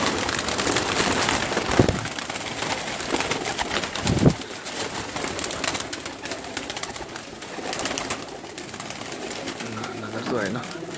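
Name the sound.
pigeons cooing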